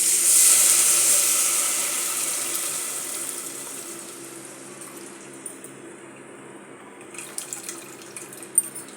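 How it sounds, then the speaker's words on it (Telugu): Tamarind juice poured into a pan of fried onions, green chillies and curry leaves while cooking pappu pulusu, a steady liquid pour and sizzle that starts strong and gradually fades, with a few small clinks near the end. "ఇందులో చింతపండు పులుసు వేసేసుకుందాం"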